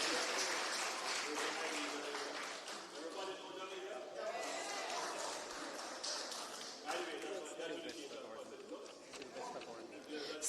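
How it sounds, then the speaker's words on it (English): An audience applauds at a land titling ceremony for Ackee Walk and Jackson Town, with sustained, moderately loud clapping running through the whole stretch as a voice talks over it. "you can clap her again, please"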